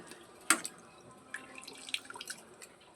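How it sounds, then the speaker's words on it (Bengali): Water drips from soybean chunks being squeezed after washing, heard as a few faint, scattered drips and small splashes, with one sharper splash early on, close by in a quiet kitchen. "এবার চিপে চিপে জল ঝরিয়ে তুলে নেব"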